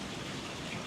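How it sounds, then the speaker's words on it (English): Steady rain falls during a heavy-rain stretch of severe spring weather, a dense, even hiss with no break or other sounds. "Today here, our rain it's been ebb and flow kind of a thing"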